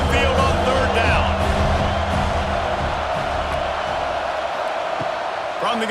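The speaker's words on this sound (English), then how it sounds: "Here comes this home crowd as the defense tries to get off the field on 3rd down." Home crowd roaring in a college football video game, LSU at Alabama on a third down, a loud sustained cheer with commentary talking over it.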